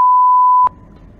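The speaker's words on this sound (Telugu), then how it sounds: "అందులో మేము కొన్ని పదాలను వినిపించలేక బీప్ వేసాం." A single loud, steady censor beep tone holds for about two-thirds of a second, then cuts off abruptly, leaving faint background murmur.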